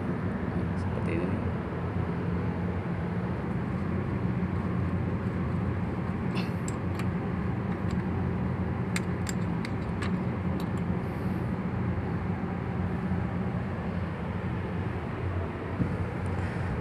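Diesel engine running rough and uneven from a faulty injector nozzle, a steady low mechanical drone that holds throughout, recorded close with faint background sounds.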